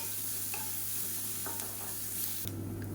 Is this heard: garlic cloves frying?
yes